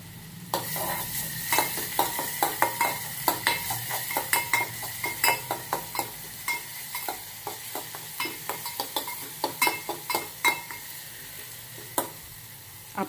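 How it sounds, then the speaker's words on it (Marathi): Ground green chili paste and curry leaves frying in a pan for a traditional Marathi dish, a soft sizzle under repeated clinks and scrapes of a spoon stirring, close and fairly quiet, no talking. "आपण एक चमचा मिरची वाटलेली घातलेली आहे त्यावर आपण कढीपत्ता टाकून घेऊया"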